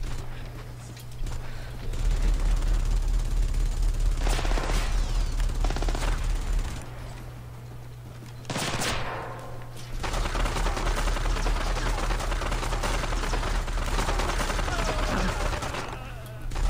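Sustained gunfire in the co-op stealth shooter game Splinter Cell Blacklist, with long stretches of dense, rattling shots over a steady low hum, briefly easing in the middle before resuming loud.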